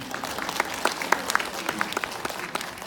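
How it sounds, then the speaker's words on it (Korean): Lecture audience applauding in a short, lively burst of many hands clapping at close range, with no voices over it. "박수 한번 쳐주시죠."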